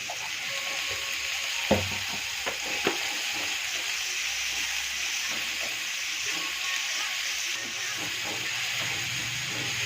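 Tomatoes sautéing with a little salt in a pan while making idli fry, giving a steady close sizzle and hiss with a few soft clinks of a stirring spoon.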